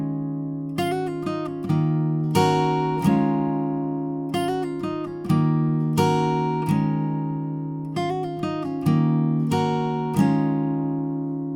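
Acoustic guitar playing the intro, barre chords alternating with quick picked licks in a repeating phrase, strummed chords ringing between runs of single notes, clear and close with no voices.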